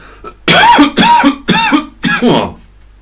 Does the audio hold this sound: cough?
yes